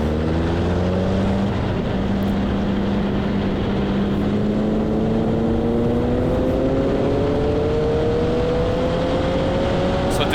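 A Formula Vee race car engine at Mondello during a race, a loud droning whine that rises steadily in pitch as the car accelerates, dipping at gear changes, close and continuous.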